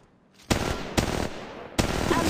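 Bursts of gunfire in the video game Apex Legends Mobile: three sharp, loud volleys crack out in quick succession, each followed by a brief rattling tail, with no talk over them.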